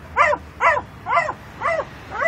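A dog left in a car on a hot day whimpers and yelps in a steady series of five high, whiny cries, close by, with faint background hum and no talking.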